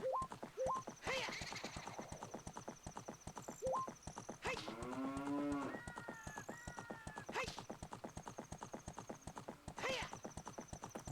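In a randomized Zelda: Ocarina of Time, a galloping horse lets out long, wavering cow-like moos instead of whinnies, twice, over steady rapid hoofbeats and faint chimes.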